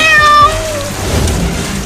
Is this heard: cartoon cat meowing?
yes